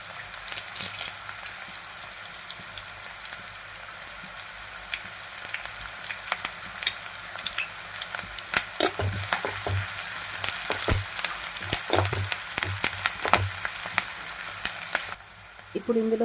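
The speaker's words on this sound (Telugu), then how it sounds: "పచ్చిమిరపకాయ చీలికలు, వీటన్నిటిని దోరగా ఫ్రై చేసుకోవాలి" Green chilies and curry leaves frying in hot oil, a steady crackling sizzle running throughout with occasional stirring clatter and sharper pops, close and fairly loud.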